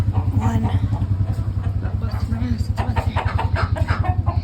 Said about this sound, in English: I need to let these chickens out.